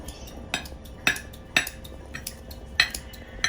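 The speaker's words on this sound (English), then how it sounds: "what I'll do with the cilantro is I'll use a scissor" Scissors snip cilantro leaves from their stems in a kitchen while a sweet potato curry is being made, giving several sharp, close clicks at uneven intervals over a quiet background.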